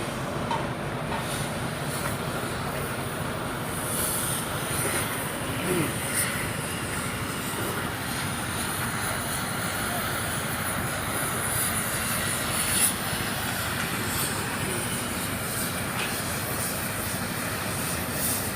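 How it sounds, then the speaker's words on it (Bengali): A freight train stands at a newly built railway station in Adhunagar, Lohagara, Chattogram, giving a steady, loud rumbling roar that carries on unbroken and fairly even throughout, with no voices. "মালামাল ফাতরগুলো নিয়ে আসার জন্য এই ট্রেনটা এখানে দাঁড়িয়ে আছে"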